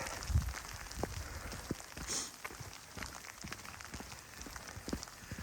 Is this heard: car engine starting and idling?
no